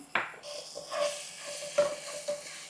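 Shallots, curry leaves and asafoetida sizzle in hot oil in a pan for a South Indian veg thali, with a sharp burst as they drop in, then a steady crackle punctuated by spoon scrapes and stirs.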